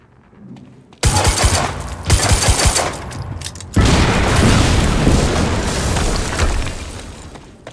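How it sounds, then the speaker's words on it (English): A loud explosion in the video game Quantum Break: a sudden heavy boom followed by a second roaring blast and sustained crackling rumble, close and dominant, with no talking. "we just heard an explosion near the harvesting perimeter"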